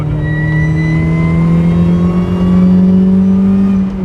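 Supercharged Mazda MX5 NA engine under load, a steady loud drone with strong harmonic tones rising slowly as the car accelerates, heard from inside the cabin with no talking.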